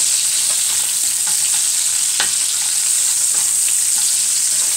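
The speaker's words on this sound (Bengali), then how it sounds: "এরপরে দিয়ে দিলাম পেঁয়াজ কুচি পরিমাণ মতো।" Chopped onion with green chillies frying in hot oil, a loud steady sizzle throughout with faint occasional scrapes of a spatula stirring the pan.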